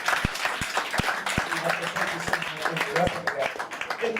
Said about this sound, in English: So we should give them a round of applause again.